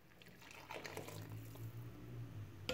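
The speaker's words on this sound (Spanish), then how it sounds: "Ahora voy a agregar un poco más de agua." Hot water is poured into a pot of dried shrimp broth in a kitchen, a faint, continuous gurgling trickle that swells slightly as the pour goes on, without any speech.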